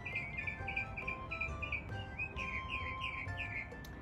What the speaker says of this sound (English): And the birds are serenading me